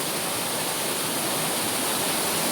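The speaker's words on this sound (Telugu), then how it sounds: "వాటర్ ఎక్కువ పడుతుంది కదా, వర్షం నిన్న పడింది" A waterfall runs heavy after rain, making a dense, steady roar of rushing water that stays constant and loud with no breaks.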